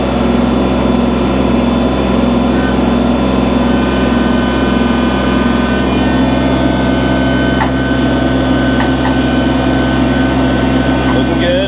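A Kubota BX compact tractor engine runs steadily at a low, even drone while slowly moving a large log, the hum continuous and close throughout.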